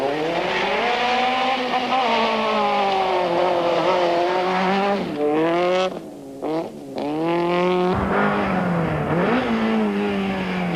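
A Class A rally car races through a water splash on a 1995 forest rally stage, its engine roaring loudly with pitch rising and falling and a brief dip and gush around the splash.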